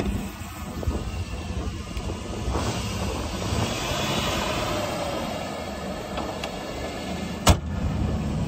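A 4x4 Chevrolet Blazer engine warms up with a steady, rushing drone that holds throughout, with a sharp click near the end.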